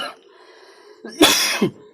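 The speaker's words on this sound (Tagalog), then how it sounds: "Inuubo ako" A man gives a couple of sharp, close coughs with a throat-clearing rasp after a low steady background hum.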